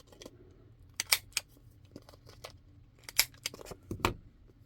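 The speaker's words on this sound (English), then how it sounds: "I used my corner rounder for the bottom, and I'm going to be doing the top as well" A corner rounder punch clipping the corners of paper for a coffee journal, giving several sharp, close clicks and snaps in small clusters over a quiet background.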